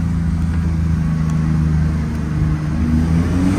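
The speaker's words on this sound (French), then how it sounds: "les turbos, ils soufflent, ils sifflent" A Porsche sports car engine revs steadily at close range, its deep low drone rising slightly toward the end with a continuous turbo whir and breathy whoosh layered over it, with no voices.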